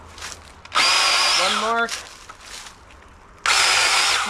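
A handheld mini power saw cutting into wood in two loud bursts of buzzing whine, with the motor pitch sliding as it slows between cuts and a person speaking briefly in between.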